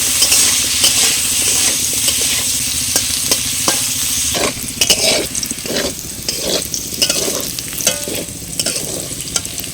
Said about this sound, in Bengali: এবারের মধ্যে ফুলকপি দিয়ে দেবো। লবণ আর হলুদ গুঁড়ো সামান্য সামান্য করে দিয়ে ভেজে নেব।